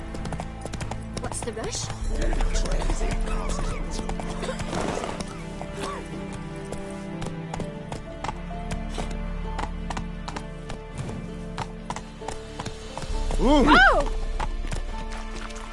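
Geralt's horse Roach in the video game The Witcher 3 gallops in a steady clip-clop of hooves, then lets out a loud whinny near the end, while someone talks over the hoofbeats.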